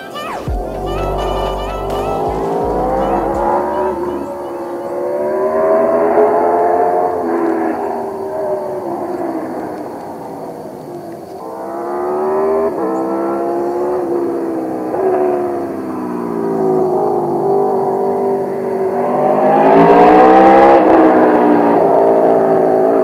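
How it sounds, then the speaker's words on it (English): An Aprilia RSV4 sportbike fitted with an SC Project GP22 exhaust thunders through a canyon, loud engine notes rising and falling through the gears for about twenty seconds as it passes close by. "here's a bonus shot to give you a sense of how the GP22 thunders through the canyon"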